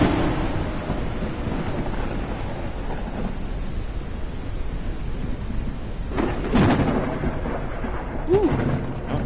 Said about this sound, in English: those lightning storms can get pretty loud